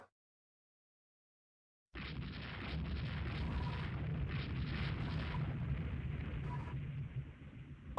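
Naval gunfire and shell hits in the warship strategy game Rule the Waves 2. After a silent start, a loud, steady, rumbling barrage of booms and blasts rolls on without a break.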